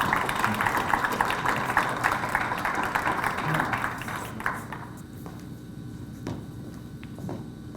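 An audience applauds athletes at a city awards ceremony, with dense clapping for several seconds that thins to scattered claps and taps.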